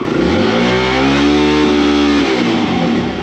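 A dirt bike engine revs high and loud to around 10,000 RPM, its pitch climbing and holding steady before easing off, continuous with no talking.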